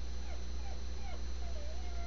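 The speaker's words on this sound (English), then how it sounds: "got my dog crying." A dog whimpers and cries in a few thin, rising and falling whines over a constant low hum.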